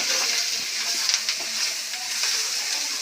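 Carrots and beans fry in a pan with a continuous bright sizzle, joined by occasional soft scrapes and stirring, steady and close with no talk.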